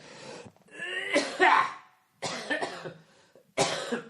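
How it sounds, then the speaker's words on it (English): A person coughs several times in close, rough bursts with brief pauses, some sounding like throat clearing. "You know, having a cough really affects your timing."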